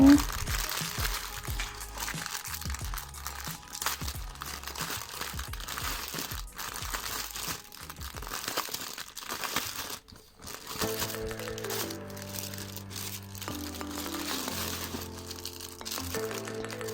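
Crinkly plastic packaging holding diamond painting beads is opened up close, with rustling and crackling throughout, and music playing underneath.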